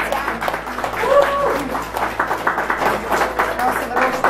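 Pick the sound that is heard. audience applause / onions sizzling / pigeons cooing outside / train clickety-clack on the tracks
audience applause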